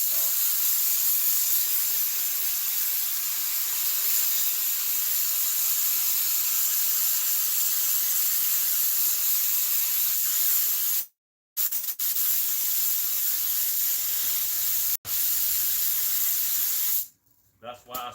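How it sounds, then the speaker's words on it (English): A steady, loud hiss of spray adhesive being sprayed onto vinyl for an RV seat runs for several seconds, broken by two short pauses and a final stop, with no talking. "That's why I spray this vinyl right here on there first."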